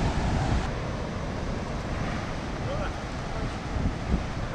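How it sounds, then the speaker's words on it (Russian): Powerful ocean waves crash along the rocky Big Sur coast, a steady roar of surf with wind buffeting the microphone and voices talking faintly beneath it. "Волны мощные прям."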